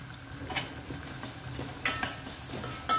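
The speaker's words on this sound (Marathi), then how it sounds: "आता हे मसाले तेलामध्ये छान परतून घ्यायचे आहेत" Spices sizzle steadily in hot oil for a field-bean (val) amti tempering, with occasional scraping stirs of a spoon against the pan.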